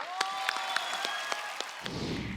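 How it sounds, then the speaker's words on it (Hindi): A studio audience on a Hindi TV comedy show claps in a steady, even beat over a bright musical sting, then a broader burst of noise takes over near the end. "जोरदार तालियों से स्वागत करते हैं मोनिका का"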